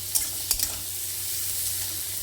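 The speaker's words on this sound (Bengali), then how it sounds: "এবার নেড়ে নেব। হালকা ভেজে নেব পেঁয়াজগুলো আর লঙ্কা।" Onions and green chillies lightly frying in a pan for a small-fish curry, a steady close sizzle with two quick scrapes of a stirring spoon near the start.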